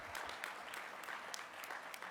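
Audience applause at the 26th Annual Governors Summit, a steady wash of many hands clapping at moderate level throughout, with no talk over it.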